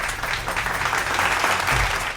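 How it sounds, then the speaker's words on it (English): Steady, dense applause from a crowd, continuous and fairly loud throughout with no talking over it. "so a round of applause"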